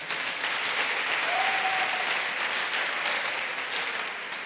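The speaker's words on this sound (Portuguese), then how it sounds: "Dê uma salva de palmas a Ele." A church congregation applauds during a worship service, a dense, steady roar of many hands clapping that holds at full strength from start to finish, with no talk over it.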